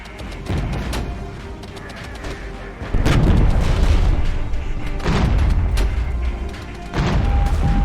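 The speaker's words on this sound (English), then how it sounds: "Right, artillery barrage. Get it on there. Big and heavy." Heavy artillery barrage in the video game Regiments: deep, booming blasts land in close succession, with big impacts near 3, 5 and 7 seconds rolling into each other over a sustained rumble.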